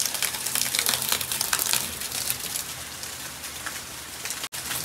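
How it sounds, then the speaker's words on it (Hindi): Heavy rain pours down in a dense, continuous close hiss with crackling drops on surfaces. No one speaks. "ये जोरदार बारिश हो रही है"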